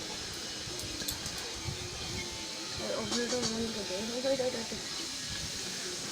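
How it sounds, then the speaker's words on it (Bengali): A gas stove burner hisses steadily under a wok (kadai) in a home kitchen, a constant airy rush that swells slightly partway through, while a person talks over it. "আমি এখন গ্যাস জ্বালব গ্যাসে একটা কড়াই বসিয়ে দিয়েছি"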